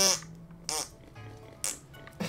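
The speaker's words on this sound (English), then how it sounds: "The piggy fart." A pig in the video game Zelda: The Wind Waker gives four short, bright farting bursts at uneven intervals, fairly faint against a quiet game background.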